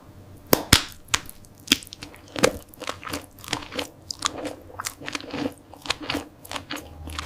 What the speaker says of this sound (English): A perfect cherry should snap when you bite it